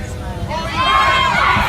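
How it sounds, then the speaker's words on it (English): Airline passengers aboard a plane break into cheering as police take an unruly couple off the aircraft, a loud swelling crowd roar of cheers and whoops that builds halfway through and holds to the end. "fellow passengers actually began cheering"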